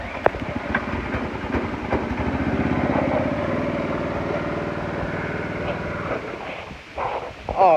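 A Predator 212 small engine fitted to a riding mower runs with a steady, loud chugging drone that shifts in pitch before dropping off near the end.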